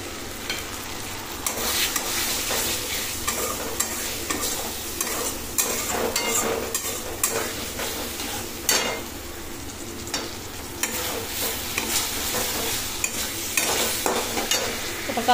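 Spice masala fries in a pan for a fish curry, giving a steady, loud, close sizzle. Repeated scraping and stirring strokes run through it, with no talking.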